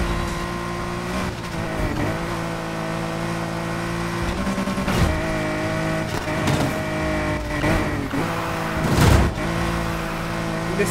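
Nissan R34 GT-R V Spec engine in the racing game Need for Speed Heat, droning steadily with layered harmonics and brief surges as the car corners and drifts, with faint tire noise at moments.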